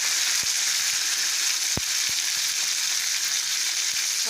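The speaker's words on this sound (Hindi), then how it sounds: "अब मैं इसमें ये टमाटर एक काट के रखा है वो ऐड कर रही हूँ।" Chopped, peeled tomatoes frying with browned onions in a pan, a steady bright sizzle broken by a few soft clicks of stirring, close up with no talking.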